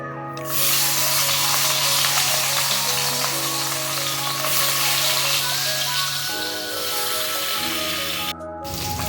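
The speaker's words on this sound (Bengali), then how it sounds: "এবার এতে মাছগুলোকে দিয়ে দেবো ভাজার জন্য।" Rohu fish sizzles loudly and steadily in hot mustard oil in a wok, a dense close-up frying hiss that barely lets up, with faint tonal background music underneath and a brief dip near the end.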